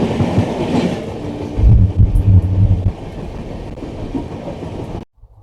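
The 12050 Gatimaan Express from Hazrat Nizamuddin to Jhansi rumbles past close by, loud wheel clatter peaking early then easing to a steady roll before cutting off abruptly.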